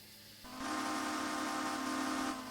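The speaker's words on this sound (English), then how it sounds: "we are essentially going to take this saddle tank and 3 BR Mark 1 coaches" A Hunslet Austerity saddle tank steam locomotive hauling three BR Mark 1 coaches in a railway video game sounds one loud, steady whistle blast of about two seconds over a low running rumble, with no talking.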